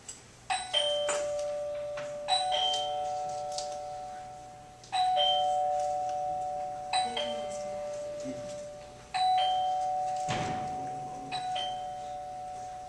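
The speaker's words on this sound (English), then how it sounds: "Wireless doorbells, and this is what they sound like." A wireless doorbell chimes several times in a row, bright electronic tones ringing out and fading between presses, with faint speech now and then.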